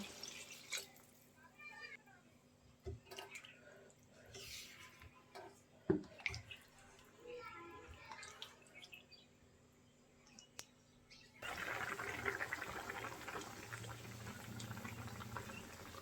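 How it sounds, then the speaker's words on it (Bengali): Water is poured into a catfish and new potato curry, then it simmers; soft scattered drips and bubbling come first, then a steady louder bubbling hiss takes over for the final seconds. "ঝোলের পানি দিয়ে দেবো"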